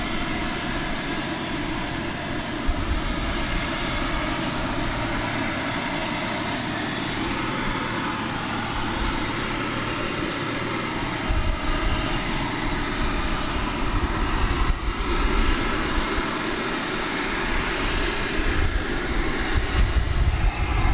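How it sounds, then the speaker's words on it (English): An American Airlines Airbus A321neo jet at DFW airport gives off a steady, loud engine roar and whine that swells slightly toward the end, heard from a distance outdoors. "American Flight 1456 from Salt Lake City in Airbus A321neo."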